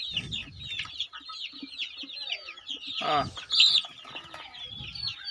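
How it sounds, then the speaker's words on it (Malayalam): Fourteen-day-old Gramalakshmi chicks chirp and peep steadily in a dense, high-pitched chorus, with a brief burst of flapping or scuffling midway. "ഇത് ഏകദേശം 14 ദിവസത്തോളം പ്രായമായ കോഴിക്കുഞ്ഞുങ്ങളാണ്"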